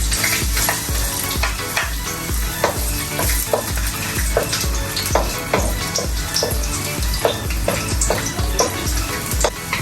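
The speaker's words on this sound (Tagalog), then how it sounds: "Ngayon po, magigisa na po tayo para sa sauce. Add na po natin ngayon yung garlic." Garlic sautéing in a pan as the base of a pasta sauce for baked mac, a loud steady sizzle with regular scraping stirs of the utensil through the oil, close up and continuous.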